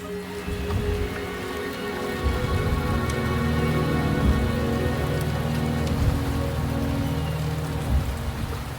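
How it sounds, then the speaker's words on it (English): Steady video game rain patters across a surface, a dense continuous hiss with scattered drops and a low rumble underneath, no voices. "The rain is subsiding, and it's time for us to head out."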